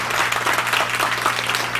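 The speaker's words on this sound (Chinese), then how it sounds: "掌声鼓励一下大家。" An audience at a recognition gathering bursts into loud, dense applause, many hands clapping continuously and close, filling the space without pause.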